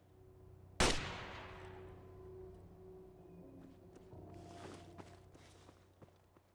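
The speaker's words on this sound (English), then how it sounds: "they're shooting at the ghouls" A single sharp gunshot crack in Fallout 4 as others shoot at ghouls, followed by a long decaying echo, then scattered footsteps and faint bursts of distant activity.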